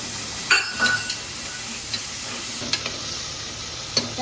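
Peeled, washed potatoes fry in hot oil with a steady close sizzle, while stirring adds occasional clinks against the pan.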